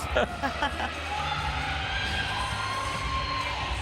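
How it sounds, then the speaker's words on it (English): Crowd at a fitness competition cheering and shouting for a woman lifting a barbell, a sustained roar of many voices in a large hall, with some nearby shouts standing out early on. "Crowd really giving her a cheer on every time she lifts that barbell."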